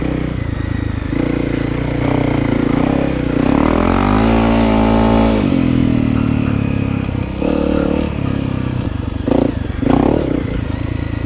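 A Honda CRF250L rally motorcycle rides through sand and overgrown brush, its close engine revving up and down over steady running noise, with clattering and brushing sounds as it pushes through.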